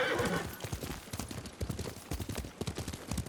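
Rhythmic hoofbeats of several horses trotting in the video game Ghost of Tsushima, steady and fairly close, with a horse whinnying near the start.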